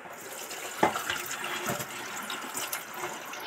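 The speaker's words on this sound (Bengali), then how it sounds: "এবার এটাকে জল ঝারিয়ে নেব।" Water draining and splashing from boiled banana flower into a sink, a steady close trickle with a few sharper splashes.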